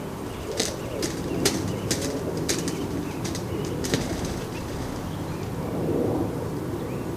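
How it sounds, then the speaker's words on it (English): Pigeons wing battling flap in a series of sharp, irregular wing claps over a soft windy background, some bursts close together, loudest near the start. "Wing battling seems to be popular with these birds."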